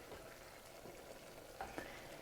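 Risotto stirred in a pot as it slowly cooks with added broth, a soft, faint scraping and gentle simmering sizzle running steadily, with a couple of brief louder scrapes near the end.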